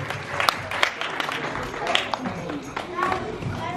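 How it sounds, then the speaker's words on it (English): A crowd at a birthday party claps, scattered sharp hand claps mixed with voices talking over them, fairly close and uneven. "give these guys a big round of applause"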